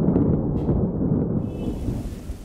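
A deep rumble of thunder rolls under a steady wash of heavy rain, slowly fading as the hiss of falling water continues.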